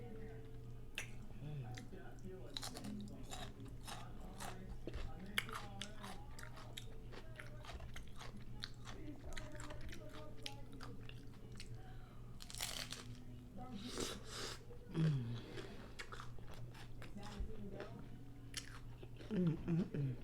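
Crisp cucumber being bitten and chewed close to the mic, with repeated wet crunches in an irregular rhythm between quiet appreciative murmurs, during a Taco Tuesday meal of chorizo taco boats.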